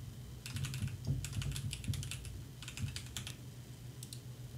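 A username is typed on a computer keyboard in short bursts of soft, rapid key clicks, close and quiet, with brief pauses between groups of keystrokes.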